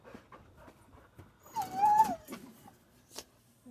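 A sad puppy whimpers on a camping trip, one thin, rising whine near the middle, fairly faint and close, amid quiet rustling and small background sounds.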